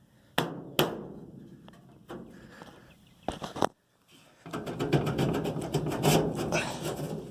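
Metal cover being pried off a combine harvester near the clean grain chain: sharp clanks and knocks, a scraping pause, then a dense run of rattling metal clatter, close and fairly loud.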